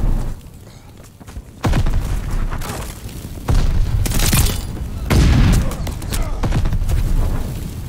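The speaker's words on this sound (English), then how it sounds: "Grenade out. Tossing grenade." Booming blasts in Call of Duty Vanguard multiplayer, a few heavy thumps in sequence amid surrounding gunfire and battle clatter, loud and close.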